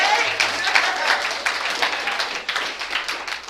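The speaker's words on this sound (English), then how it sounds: "And clapping for yourselves" A group at a sobriety recovery meeting claps steadily and fairly loudly throughout, a dense spatter of hand claps with a murmur of voices underneath.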